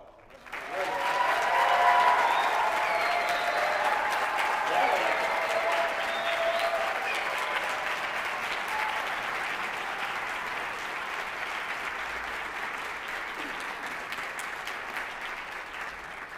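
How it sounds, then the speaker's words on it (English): Applause from an audience at a student chamber music concert, rising quickly to a full, dense roar of clapping and then holding steady at slightly lower strength, with scattered voices and cheers mixed in. "could we give them a round of applause?"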